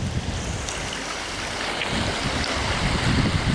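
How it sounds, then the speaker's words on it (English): Cold wind gusting across an exposed riverside gravel bar by the water after out-of-season rain, a steady, full roaring rush that swells slightly toward the end, close and loud with no voices. "now the wind is blowing"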